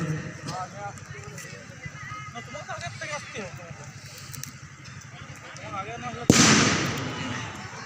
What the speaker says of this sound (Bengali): এদিকে মাঠের বাইরে বাজি থাকছে